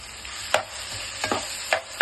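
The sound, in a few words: stirring mashed potatoes in a pan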